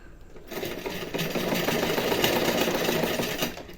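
A sewing machine runs steadily, stitching a hook-and-eye strip onto fabric, its dense mechanical whirr holding close and fairly loud for nearly four seconds with no voices.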